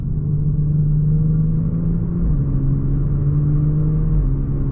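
A Genesis G70 3.3T AWD's twin-turbo V6 revs low in the range, around 2800 to 3200 rpm, giving a loud, steady grunting drone with a slight dip and rise in pitch, no voices over it.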